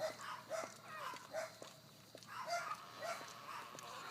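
Soft, repeated high whimpers from a large mother dog giving birth to a litter of puppies, coming in a steady rhythm of short cries over a faint background hiss.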